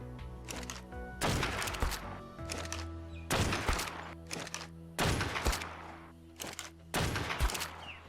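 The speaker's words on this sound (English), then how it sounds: "I got out the old trusty long neck and put a couple shots in him" Longneck rifle shots in the video game Ark Survival Ascended, about five loud, sharp reports spaced roughly a second apart, each with a ringing tail, close by and without speech.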